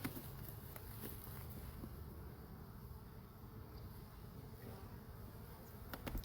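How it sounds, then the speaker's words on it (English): Many honey bees hum around a hive in a continuous, low buzzing drone, steady throughout, with no voices. "I'm sure you guys can probably hear those bees buzzing around."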